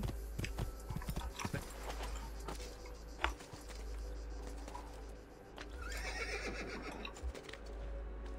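Horse neighs in the Assassin's Creed II video game amid steady game ambience and hoof clops, with someone talking and laughing over it.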